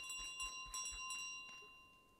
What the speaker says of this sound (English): Little bell, little bike there.